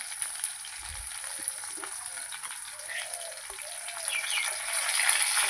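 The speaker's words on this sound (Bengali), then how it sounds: "কাঁচা মরিচ কেটে রেখেছিলাম সেগুলো দিলাম, পাঁচফোড়ন দিলাম" Green chilies and panch phoron sizzle steadily in hot oil, a continuous bright crackle with small pops that grows slightly louder toward the end.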